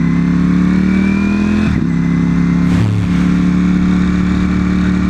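A Ferrari sports car engine revs and accelerates in a loud, steady, droning tone, with brief dips in pitch around gear changes; no one speaks.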